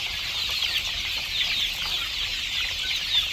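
Young chicks that have had two vaccinations chirp continuously in a high, steady chorus, loud and close with no talking.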